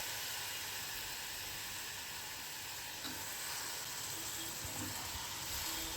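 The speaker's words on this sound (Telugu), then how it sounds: "ఇప్పుడు మనం ఉప్పు నీళ్ళల్లో వేసుకున్న అరటికాయ ముక్కలు వేసేసుకుని కాసేపు కలుపుతూ వేయించుకుందాం." Pieces of raw banana, soaked in salt water, fry with onion masala paste in a pan. A steady, close sizzle hisses throughout without a break, with faint stirring scrapes underneath.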